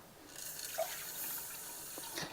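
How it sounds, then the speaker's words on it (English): Water poured into an Instant Pot while making stuffed cabbage rolls, a short, faint splash and trickle heard up close with no talking. "I'm going to put a little bit more water in."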